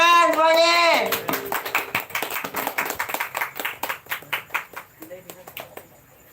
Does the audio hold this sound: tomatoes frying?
no